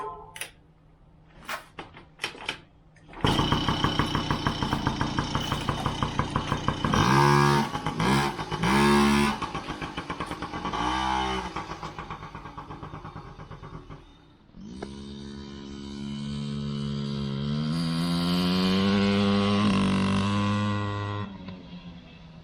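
A Yamaha PW50 small two-stroke motorcycle starts after a few quiet knocks, then runs with a loud buzzy idle and repeated throttle blips. It settles briefly and then rises into a long revving pull, heard close up.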